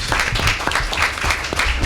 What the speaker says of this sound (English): you can give that round of applause